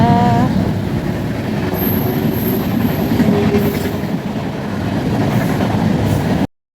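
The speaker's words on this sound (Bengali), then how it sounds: "এই যে এতক্ষণ পর ট্রেন আসলো আর বোনও বেরিয়ে যাচ্ছে এই ট্রেনটায় করে" A train pulls into a station, its loud continuous rumble and rattling wheels filling the scene with high squeals of wheels on rails, ending abruptly.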